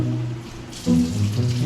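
Water runs from a kitchen tap during cake baking, a steady rushing stream that grows fuller and louder partway through, heard alone without talk.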